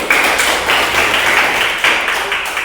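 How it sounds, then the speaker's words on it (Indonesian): A crowd applauds for Bogi at an Indonesian gathering, a dense, steady wash of many hands clapping close by for under three seconds, with no voices over it. "Tepuk tangan untuk Bogi"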